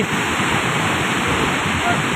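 Sahastrakund waterfall in Nanded district, a loud, steady, close roar of falling water that fills the whole stretch without a break.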